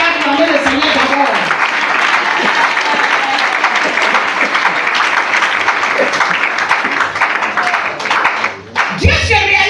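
A seminar congregation applauds and cheers to acclaim the Lord, dense loud clapping filling the whole stretch, with raised voices and shouting mixed in and a brief dip near the end.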